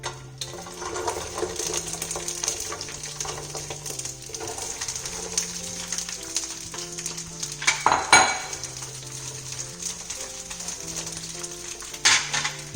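Green chillies fry in hot oil for a village-style chutney, a soft continuous sizzle with occasional clinks of a utensil against the pan and a sharper clatter midway, heard close and without talk.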